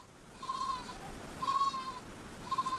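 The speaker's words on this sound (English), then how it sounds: "And these are the culprits. Goats." Goats on Pitcairn Island, a remote Pacific island, bleat three times at about one-second intervals. The wavering calls are moderately close over a soft outdoor background, and no one speaks.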